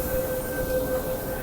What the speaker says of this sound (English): all these trains when it comes in